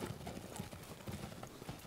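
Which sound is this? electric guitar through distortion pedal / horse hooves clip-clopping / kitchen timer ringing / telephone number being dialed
horse hooves clip-clopping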